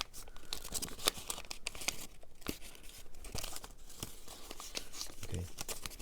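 Folded paper layers of an origami model being pulled open and unwrapped, crisp crinkling and rustling with sharp crackles, close up and continuous.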